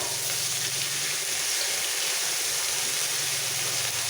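Spice paste of ginger, coriander, cumin and green chilli frying in hot oil for a lote fish curry with vegetables, a steady close hiss and sizzle with no pauses.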